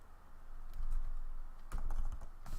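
Someone types a Linux command on a computer keyboard with quick, close clicks in two short bursts, the second following a brief pause, and no voice over them.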